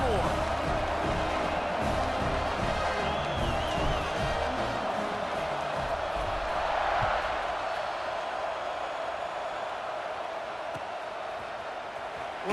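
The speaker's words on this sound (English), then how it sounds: "this crowd is buzzing after that last score" A steady buzz from a stadium crowd in EA Sports College Football 26 fills the background after a score, under continuous play-by-play commentary.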